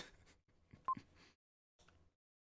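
Telephone call tones from the video game Illusion of Gaia: a few short beeping dial tones in separate bursts, with a brief pause between groups, fairly quiet and heard alone.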